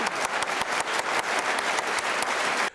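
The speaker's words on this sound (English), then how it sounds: "she starts clapping close to the microphone so you can hear it extra loud" A woman claps her hands rapidly and steadily right at the microphone, each sharp, loud clap standing out alone for nearly three seconds before stopping abruptly.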